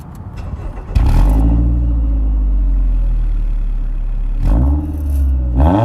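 Stock Scion tC engine idling at first, then revved hard to a loud, sustained roar that holds for several seconds before dropping and surging again in two shorter blips near the end, close up with no talk.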